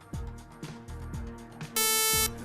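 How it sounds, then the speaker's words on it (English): A loud electronic quiz buzzer blares for about half a second near the end of a televised high school quiz round, following a few soft thuds and background hum. "right on the buzzer, and that sound takes us to the end of the round"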